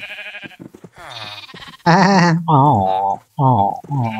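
Goats in Minecraft giving loud, wavering bleats in quick succession, mixed with a voice talking and calling to them.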